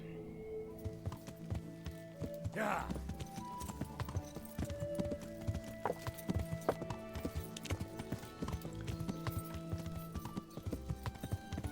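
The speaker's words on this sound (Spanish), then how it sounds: "Ya corre el caballo, ahora sí ya da gusto." Horse hooves pound in a steady galloping rhythm in the medieval video game Kingdom Come: Deliverance, continuous and fairly loud over a game soundtrack, with a brief whinny early on.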